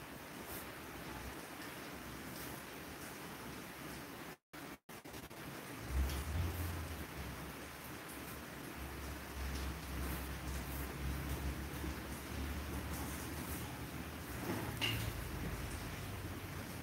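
Rain falls outside in a city at night, a steady broadband hiss with low rumbling swells and occasional gusty surges, heard from indoors at moderate distance with a brief dropout partway through.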